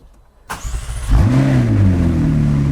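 A used eBay engine fitted to a $38,500 McLaren fires up for the first time after long storage, cranking briefly then catching with a loud, close rev that settles into a deep, steady idle.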